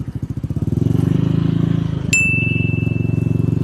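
A 2005 motorcycle engine revving near the exhaust pipe, a loud rapid pulsing putter that holds steady, with a short metallic ring partway through and no talk.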